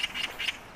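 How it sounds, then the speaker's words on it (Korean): A few short, harsh magpie calls in a quick cluster, bright and rasping, at moderate distance with no voices. "까치 소리 같은데?"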